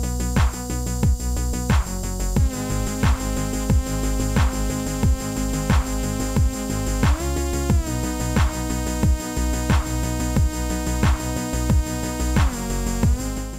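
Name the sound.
synthesizer parts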